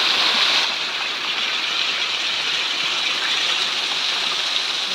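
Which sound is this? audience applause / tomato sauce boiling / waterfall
waterfall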